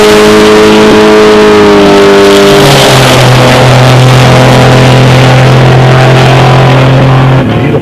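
An '86 Buick Regal with a 3.8 turbocharged engine and a '55 Chevy launching in a drag race, very loud engines revving hard and climbing in pitch through a gear change, close and sustained.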